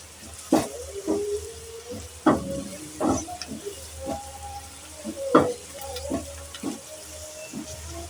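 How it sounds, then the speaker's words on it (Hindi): Onions frying in a pan over a high flame for dal mash, a steady sizzle broken by sharp clanks and scrapes of stirring at irregular intervals, close and moderately loud with no talking. "थोड़ा फ्लेम में तेज करूंगी ताकि लाइट ब्राउन हो जाए हमारी प्याज।"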